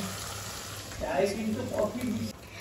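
Mutton pieces sizzle in a hot wok (kadai) with onion and tomato, a close, steady frying crackle that swells as the meat is stirred, with a voice faintly underneath.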